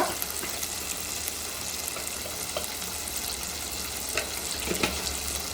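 Food fries in a pan with turmeric and chili powder, giving an even, moderately quiet sizzle with faint crackles throughout.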